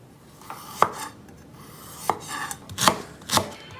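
A knife chops peeled ginger lengthwise on a cutting board in a home kitchen: several crisp, irregularly spaced strikes, close and fairly loud, with no talking.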